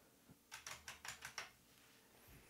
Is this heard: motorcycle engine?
no